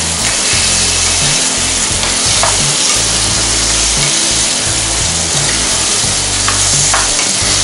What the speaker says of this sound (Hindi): ये पनीर डाल लेंगे और इसको इस तरह से मसाले के साथ मिक्स कर लेंगे